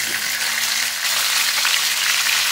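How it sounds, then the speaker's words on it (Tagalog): Chicken leg pieces searing in a hot pan, giving a steady, loud broadband sizzle that holds continuously without pause, with no talk over it. "let us start our cooking by searing our chicken pieces"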